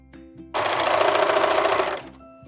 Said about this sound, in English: Now we're gonna serge up the next one.